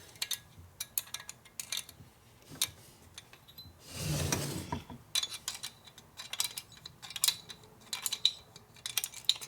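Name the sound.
wrench torquing head bolts on Harley shovelhead motor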